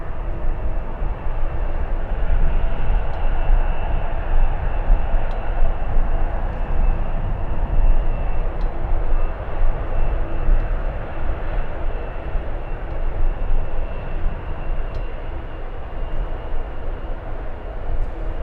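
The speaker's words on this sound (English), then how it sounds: "777-300 flying back to Paris" Air France Boeing 777-300 jet taking off from San Francisco for Paris, giving a sustained, heavy engine roar that holds loud and steady with a faint high whine and no voices.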